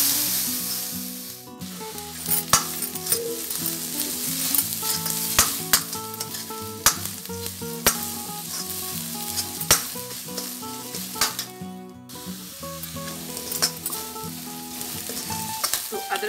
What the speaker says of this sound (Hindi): तो बराबर चलाते हुए इसको हम भून लेते हैं।